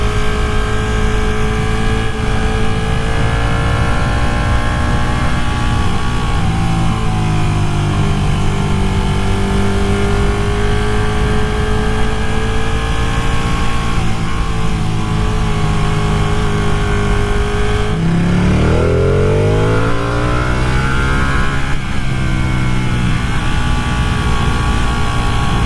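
A Ducati Panigale 959 twin-cylinder engine revs and accelerates loudly through several gears, pitch climbing and dropping with each shift, continuous and close.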